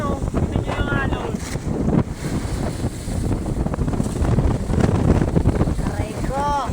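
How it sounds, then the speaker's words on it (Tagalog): Strong wind and rough sea waves buffet the microphone in a steady roar, with surges of water and what sounds like boat noise, while people talk intermittently over it. "Ito yung alon, oh."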